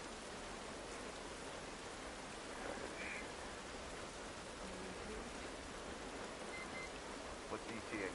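Steady rain pouring down in a video game, a dense, even hiss that holds throughout with faint background sounds.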